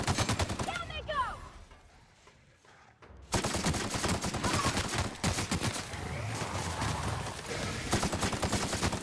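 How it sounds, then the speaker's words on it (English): Gunfire in The Outer Worlds on PC: a broadband burst of shots, then a quieter lull, then dense continuous rapid fire and impacts through the rest, loud and close within a busy combat mix. "Returning fire!"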